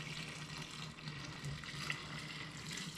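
Water poured steadily into a fermenter for brewing a German Hefeweizen kit, a continuous splashing pour at close range with no talk.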